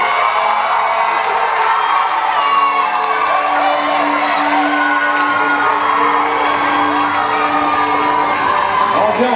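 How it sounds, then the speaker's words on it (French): A large pageant audience at the Miss Black Beauty France 2012 election cheers, whoops and shouts for the candidates, a loud, dense, continuous crowd roar sustained throughout. "Merci, applaudissements pour toutes nos candidates."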